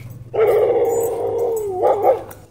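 At a dog park, a boisterous dog lets out a loud, close, drawn-out yowling bark lasting about two seconds, wavering in pitch and ending in a couple of rougher yips.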